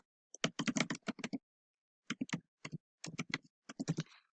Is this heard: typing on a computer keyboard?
yes